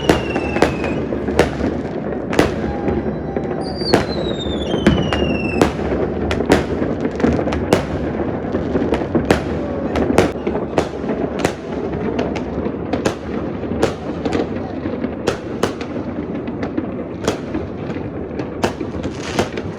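New Year fireworks over a lake in Bucharest, Romania burst repeatedly at irregular intervals, sharp cracks and booms echoing over a constant crackling rumble, with whistling rockets rising now and then.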